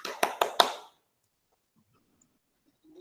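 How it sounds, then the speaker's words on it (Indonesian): Children in a classroom clap together in a short burst of four sharp, loud claps in a quick rhythm, followed by near silence. "Tepuk tangan."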